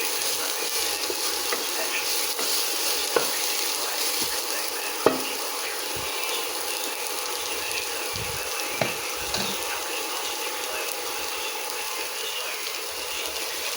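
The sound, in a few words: pork and chicken frying in pan for adobo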